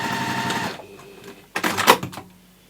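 Sewing machine stitching fabric for a nesting gift basket, a short burst of rapid whirring stitches that stops, a pause, then a second quick run; close and clear, no speech.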